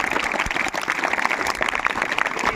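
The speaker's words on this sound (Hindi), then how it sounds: "इन दोनों बच्चों के लिए जोरदार तालियां।" Applause for two students at a school prize announcement, a dense, fairly close patter of many hands clapping continuously with no voices over it.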